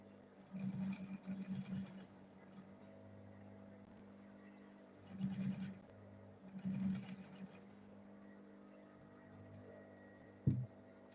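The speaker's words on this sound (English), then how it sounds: "Then I'll go ahead and sew it also." A sewing machine stitching a file bag, running in three short humming bursts separated by quiet pauses, close but fairly faint, with a sharp click near the end.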